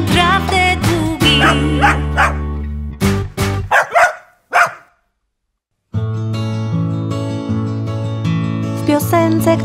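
Dogs bark in a string of quick yaps amid a lively children's song with music. The barking ends in a short silence before the music starts again.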